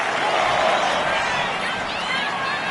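Steady, dense roar of a WWE Raw wrestling arena crowd cheering, loud and continuous without a break, with no voices standing out.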